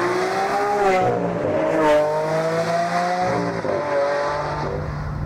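Four-wheel-drive Lamborghini engine droning loudly from inside the car while driving, its revs climbing and dipping through gear changes with a faint tire squeal, heard alone without talk.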